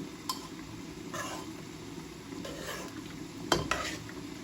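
A spoon gently turning soft mixed dal in a pot, soft wet scraping and stirring with a few clinks of metal against the pot, close by over a low steady hiss, no talking.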